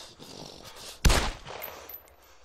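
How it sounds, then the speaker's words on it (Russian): A pistol fires once in the video game DayZ, a single sharp loud report followed by a lingering, fading echo tail of about half a second, set against a quiet background. "Шумный пистолет, шумный."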